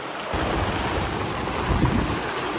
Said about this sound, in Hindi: हवा इतनी तेज चल रही है, चारों तरफ से बारिश आ रही है